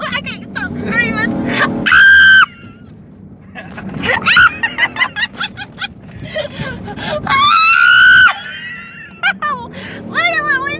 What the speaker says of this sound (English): I can't stop screaming.